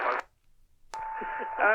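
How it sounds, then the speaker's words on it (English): A Retekess PR12 portable AM FM radio gives off a steady thin whine under faint broadcast sound, following a short burst of station audio and a brief gap, close and clear. "You kind of hear that background tone coming from the radio."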